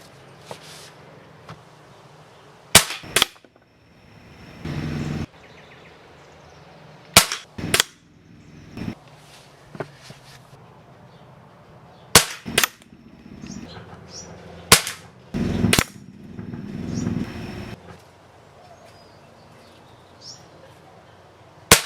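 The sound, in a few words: shots from a Barra 1866 .177 air rifle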